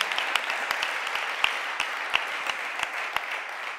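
Applause from an audience at a political event, a soft continuous patter of clapping with a few sharper, closer claps standing out at irregular intervals.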